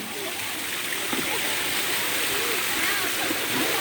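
A large waterfall and flowing stream roar as a steady, dense wash of splashing water, loud and continuous throughout.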